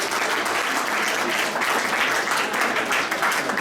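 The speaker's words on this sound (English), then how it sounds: "Please get a round of applause again." Dense, steady applause from an audience at the official opening of the Fort Richmond Medical Clinic, sustained and even throughout with no pauses.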